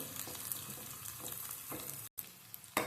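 Steady crackling sizzle of onions frying in hot oil for a tempering, close up, with occasional stirring scrapes and a brief drop-out near the end.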